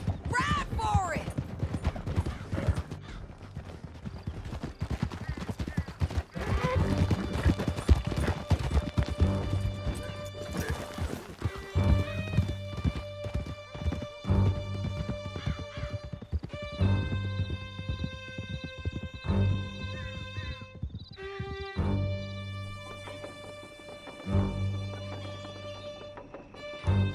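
Horses galloping in the Red Dead Redemption 2 western game, a steady rapid clip-clop of hooves throughout, with scattered gunshots early on, voices talking over the ride and music swelling in later.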